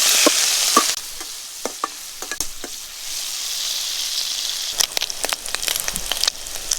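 Shrimp seasoned with turmeric and salt fry in hot oil, a loud steady sizzle close up, punctuated by sharp clinks and scrapes of stirring, with no talking.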